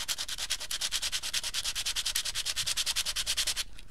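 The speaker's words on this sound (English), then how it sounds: "Take me a piece of sandpaper. And I just go along the edges" Sandpaper rubbed along the painted edges of a small wooden domino, a rapid steady series of close scratchy strokes, about nine per second, continuing alone with no talk.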